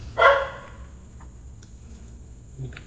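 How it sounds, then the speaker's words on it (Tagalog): A single sharp dog bark near the start, fairly close and loud, followed by quiet background with a faint second yelp near the end; no voices over it. "May aso na naman makulit."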